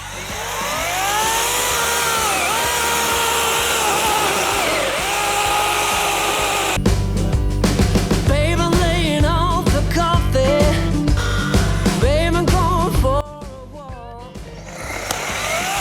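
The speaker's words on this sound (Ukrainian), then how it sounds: "також давайте цією пилкою попробую зрізати" A Sequoia cordless mini chainsaw (SBC2004M-QV / SBC2008BM EV) whines loudly at speed, then bites into dry oak with a rough, pulsing cutting drone before easing off near the end.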